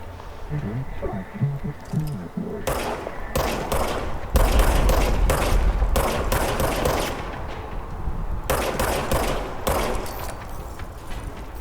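Gunfire in the video game Control comes in loud, close bursts of rapid shots, with several separate volleys and short pauses between them, along with a player's voice.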